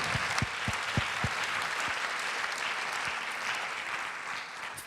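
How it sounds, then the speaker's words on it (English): Audience applause at a conversation event with Israel's ambassador to the United States, a steady wash of clapping lasting the whole stretch, loud and close at first and easing slightly toward the end. "How about a round of applause for the Mossad?"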